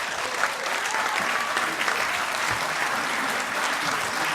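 An audience at a municipal election campaign event applauds the candidate list, a dense, sustained wash of clapping from a crowd, loud and even throughout.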